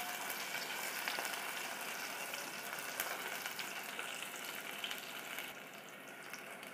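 Spring onion and tomato fry in a pan while pithla is being prepared, a steady, bright sizzle that stays fairly even before easing off and growing quieter near the end.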